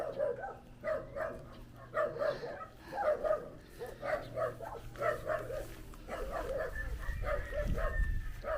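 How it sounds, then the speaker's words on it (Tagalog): A dog barks in short repeated bursts at a moderate distance on a rural farm, with faint background rumble and some low voices around it. "Karbuk ay ang aso."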